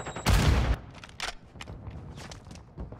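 Modern Warfare 2 gunfire: a loud burst of shots opens, followed by scattered quieter pops and footsteps-like thumps in an online ranked match, with no clear talk.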